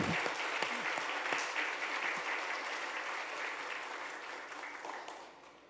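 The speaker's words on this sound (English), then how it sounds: "let's give them a big round of applause for our team" A congregation at a Sunday church service claps steadily for several seconds, the applause gradually fading toward the end.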